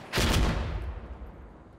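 A single loud, close burst of gunfire punching through a wall in Insurgency Sandstorm, a quick cluster of sharp cracks with a heavy low boom that decays into a rumbling tail.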